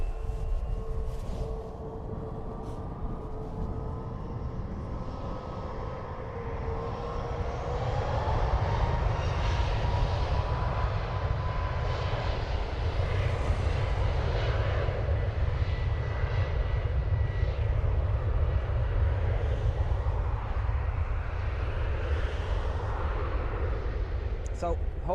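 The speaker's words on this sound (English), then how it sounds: "Ryanair is off to Bristol. 737 MAX 8, brand new" A brand-new Ryanair Boeing 737 MAX 8 jet departs Dublin Airport for Bristol, its engines a steady broad roar that swells louder midway and holds through the end, with a voice talking faintly underneath.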